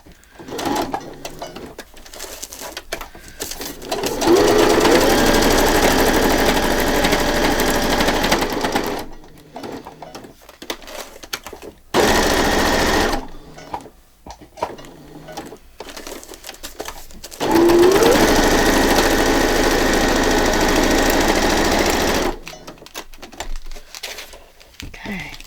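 A sewing machine stitches fabric tabs in two long, loud bursts of rapid mechanical whirring, separated by quieter gaps with handling noises and some faint background sounds.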